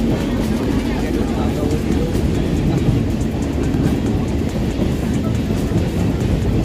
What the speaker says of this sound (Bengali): বৃষ্টিতে ভেজা অবস্থায় ট্রেন ছুটে চলেছে পুরীর উদ্দেশ্যে।